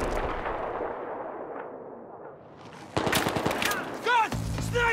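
Battlefield 3 campaign combat: heavy gunfire rings out in sharp, rapid bursts and echoing rifle shots, with a loud volley partway through and shouting voices mixed into the chaos.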